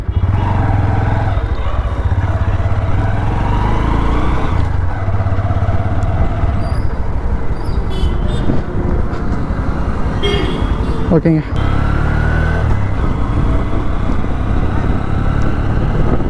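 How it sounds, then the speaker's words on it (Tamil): A Honda CB125 Hornet 125cc motorcycle engine drones steadily while being ridden, with road and traffic noise around it, a horn toot and someone speaking over it. "இப்போ பார்த்தீங்கன்னா அப்படியே பைக் ஓட்டலாம்"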